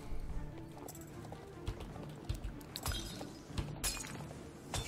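Horse hooves clip-clop steadily in the online horse-riding game Star Stable Online, with a low-level horse trotting over a continuous game soundtrack and some scattered clinking effects.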